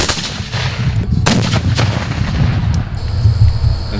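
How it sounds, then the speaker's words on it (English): A ceremonial rifle volley fires at a memorial service, with several loud, near cracks from a rank of rifles landing in quick succession over outdoor ambience, followed by a fading ring. "Front rank, make ready, take aim,"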